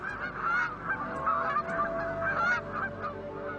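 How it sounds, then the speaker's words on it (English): Aleutian Canada geese honking continuously in a loud, close flock, overlapping calls rising and falling without pause, at an Alaska maritime wildlife refuge. "The Aleutian Canada goose are a success story"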